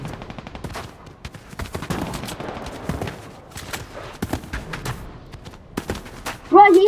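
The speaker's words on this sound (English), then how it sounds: "Bro, he has the minigun." Minigun firing in a video game, bursts of rapid gunfire crackling in clusters across the clip, with a short loud sound near the end.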